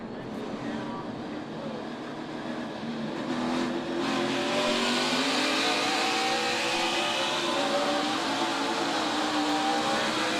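NASCAR Xfinity race cars on a restart at Charlotte Motor Speedway, a pack of engines swelling from a distant rumble into a loud, sustained roar as they accelerate, with a commentator talking over it.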